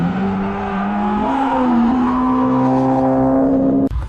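AI-generated audio of a Lexus LFA pulling through a corner, a steady loud engine drone whose pitch climbs as it revs up, then cuts off abruptly near the end.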